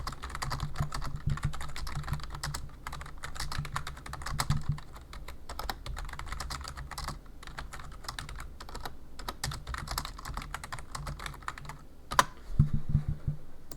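Steady typing on a computer keyboard during an online Catan match, with rapid uneven key clicks and a few louder thumps, heard alone with no voices.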